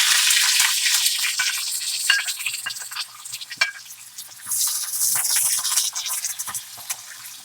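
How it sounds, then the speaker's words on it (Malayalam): Green chillies frying in a pan with cumin seeds, a close, steady hiss and sizzle broken by crackles and a few stirring scrapes, with the sizzling swelling again midway. "ഇനി അതിലേക്ക് നമുക്ക് പച്ചമുളകും എല്ലാം ഇട്ട് കൊടുക്കാം"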